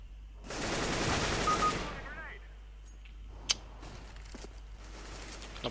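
Automatic weapon fire in CS:GO: one loud, continuous burst of a bit over a second, then quieter scattered clicks and small impacts in the background.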